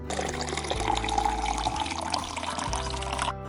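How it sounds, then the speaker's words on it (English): Tap water gushes into a measuring cup in a kitchen, a steady loud splashing rush that shifts in tone as the cup fills, then stops abruptly near the end. "I fill the cup with water."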